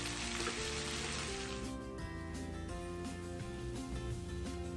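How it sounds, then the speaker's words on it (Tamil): Onions and tomatoes sauté in a pan over a medium flame, giving a steady, dense sizzle that runs without a break. A low tonal hum sits underneath. "லைட்டாக வதக்கி விட்டுக்கலாம் வெங்காயத்தை"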